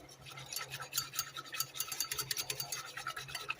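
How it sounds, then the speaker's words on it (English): A whisk scrapes in quick, rhythmic strokes against a bowl as flour is worked into gravy for a crock pot roast, a faint, steady close-up scratching and ticking with no voice. "Now, you want to make sure that flour is really well whisked in."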